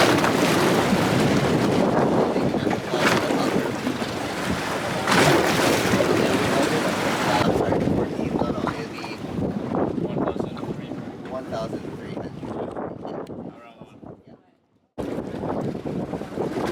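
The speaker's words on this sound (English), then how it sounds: "That's what it sounds like when the wind blows really strong." Strong wind buffeting a boat on the sea, a loud roaring rush against the microphone with surging waves beneath, easing partway through, dropping out briefly, then returning, with voices audible at times.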